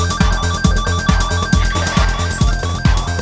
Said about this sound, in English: So that was a Roland SH1000, actually the first synthesizer ever made by Roland, and it was used to record all the sound effects in this